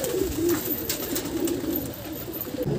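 Pigeons kept on a rooftop breeding loft give soft, low repeated cooing calls, close by, over light outdoor background noise and with no one talking.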